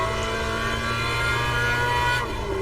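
A Mazda MX-5 race car engine drones steadily from inside the car at high revs, then its pitch shifts abruptly near the end as it changes down a gear.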